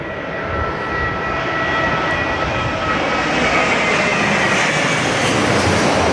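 An Airbus A320neo jet comes in to land with a loud, steady engine roar that swells as it passes close overhead, with no voices.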